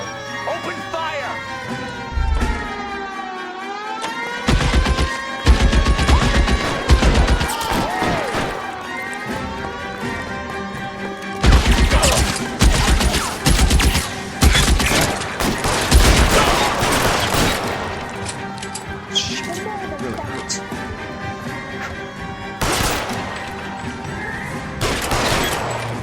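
Heavy gunfire in a shootout in the video game L.A. Noire, bursts of rapid shots and volleys coming in waves over more than twenty seconds, with a siren wailing and voices talking in between.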